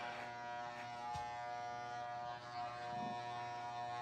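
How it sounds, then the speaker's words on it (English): An electric shaver buzzes continuously up close, a steady droning hum that stays even for the few seconds it runs, with no voices over it. "Could have charged your shaver, James."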